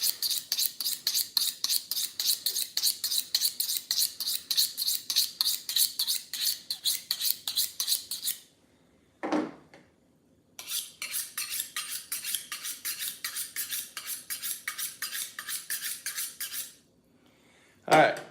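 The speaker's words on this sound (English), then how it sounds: "I need this tip of this knife sharpened up" A skinning knife's dull tip is sharpened with fast, even scraping strokes close up, in two long steady runs broken by a short pause and a couple of louder scuffs.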